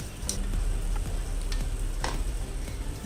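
Ghee sizzles on a hot griddle beneath a bajra thalipeeth, a steady close crackling hiss with scattered sharp pops and light scraping throughout.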